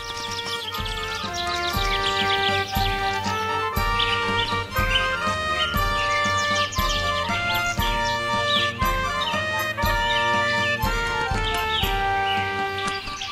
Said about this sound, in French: quelle merveille que tous ces oiseaux rassemblés